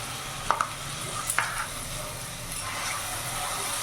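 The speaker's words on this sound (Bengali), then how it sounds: "এবার ভালো করে নাড়াচাড়া করে নেব আর কিছুক্ষণ আমি এটা কষিয়ে নেব যতক্ষণ না মশলা থেকে তেল ছাড়ছে" Ginger, garlic and green chilli paste frying in oil while being stirred, a close continuous sizzle with a few sharp scrapes and knocks of a spoon on the pan early on.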